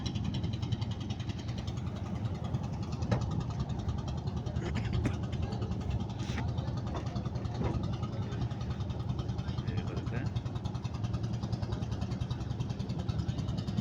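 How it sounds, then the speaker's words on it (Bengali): A steady boat engine drones continuously at close range, chugging evenly throughout with faint occasional knocks, as it tows another heavily loaded boat on the Madhumati River at sunrise. "এখন আমাদের একটা নৌকা থেকে একটা নৌকা টেনে যাচ্ছে।"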